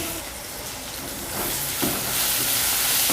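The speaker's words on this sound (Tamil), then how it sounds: "உப்பு போட்டு நல்லா வதக்கிக்கலாம்." Onions sautéing with salt in a pan give a continuous close hiss and sizzle that swells slightly partway through, with soft stirring scrapes beneath.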